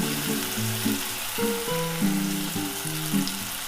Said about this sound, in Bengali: সমস্তটা দিয়ে আমি ভালো মতো মশলাটাকে কষে নেব